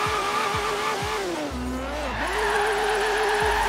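Car drifting and skidding in the Forza Horizon 3 racing game, with a loud sustained engine drone shifting pitch and tire squeal throughout, punctuated by a few low thumps.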